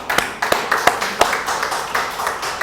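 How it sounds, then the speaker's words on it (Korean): A church congregation at a Wednesday worship service claps together in a steady, rhythmic beat, sharp repeated hand claps filling the room. "하나님께 영광의 박수를."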